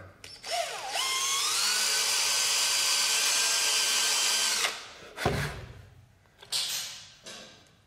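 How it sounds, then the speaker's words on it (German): A small power drill spins up and runs steadily for about four seconds while reaming a carburetor jet on a cafe racer motorcycle, its high whine climbing in pitch, then stopping, followed by a few short handling clatters. "So wird jetzt jede einzelne Düse aufgerieben."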